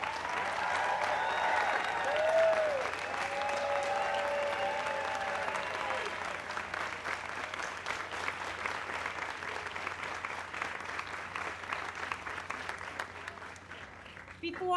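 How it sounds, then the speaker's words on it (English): Sustained audience applause for Craig Miller at AIDS Walk New York 2018, a dense wash of clapping that swells early and slowly thins out over about fifteen seconds, with crowd noise and faint voices underneath. "Please give a big applause for Mr."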